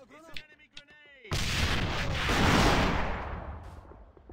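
Grenades go off in a first-person shooter, a single heavy boom that rumbles and slowly fades over several seconds, right after a brief shouted voice.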